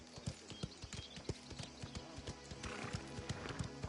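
Horse hooves clip-clopping in a steady rhythm with a whinny, from a stable area in the video game Mafia: The Old Country, fairly quiet and without speech.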